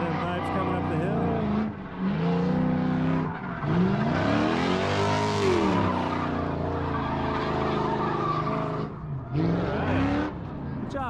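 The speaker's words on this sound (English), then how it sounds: "Listen to them pipes coming up the hill." Drift car exhausts roar and rev while climbing a hill at a drift competition, with sustained engine wail, rising and falling pitch, tire noise and a crowd or announcer voice underneath.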